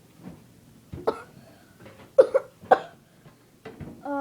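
Several sharp, short hiccups after sips of pickle juice, spaced irregularly and heard close up, with small breathy gasps between them.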